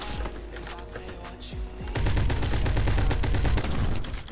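Rapid shotgun fire from a Saiga 12 in the Roblox game Bad Business bursts out loud and close, a dense volley of repeated blasts after a short stretch of quieter game sounds.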